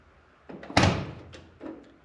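A diesel dually mini truck cab door opens and shuts, a close solid thunk followed by softer latch and handle clicks, alone without talk.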